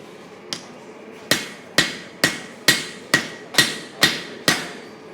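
A hammer's round face strikes a spear head on an anvil at a blacksmith hammer-in, nine sharp ringing blows in a steady rhythm after one lighter tap, close and loud.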